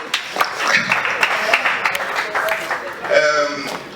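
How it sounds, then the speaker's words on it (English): Scattered clapping from an audience at a meeting, irregular and moderately loud, with voices murmuring underneath. "let us clap for him"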